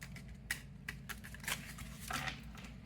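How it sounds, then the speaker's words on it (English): A Serenity Tarot card deck is shuffled in a few soft, quick riffling bursts over a faint low background hum, with no talk. "Let me shuffle a couple times."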